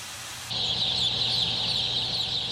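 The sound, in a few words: chicks in a poultry breeding house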